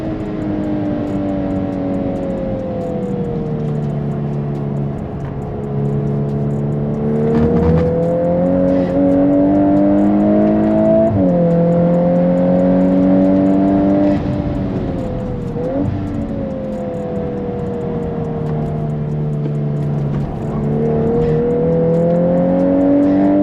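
A VW MK8 Golf R is driven hard around a race circuit on a track day, heard from inside. The engine revs rise and fall in a loud, continuous drone through repeated shifts and lifts, with no talking.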